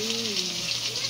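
Onions frying in a pan for mutton curry, a steady broadband sizzle throughout, with a voice talking over it.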